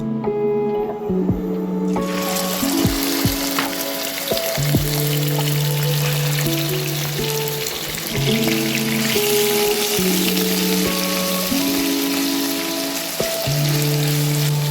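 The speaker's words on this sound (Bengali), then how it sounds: "তেল গরম হয়ে গেছে প্রথমে আমি চিকেনটাকে আস্তে আস্তে ভেজে নেব" Chicken pieces frying in hot oil in a wok, a dense continuous sizzle and crackle that starts abruptly after a quiet moment and keeps going steadily, close and loud, with no voices.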